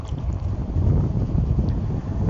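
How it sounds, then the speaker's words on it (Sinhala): Strong wind buffets a microphone outdoors in a park, a loud continuous low rumble and roar with no clear breaks. "අද පොඩ්ඩක් හුළඟත් වැඩි මම කියන එක ඇහෙනවත් දන්නෙත් නෑ"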